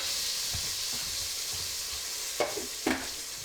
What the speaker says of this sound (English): Throw in some of that whole garlic. All right. Sizzle,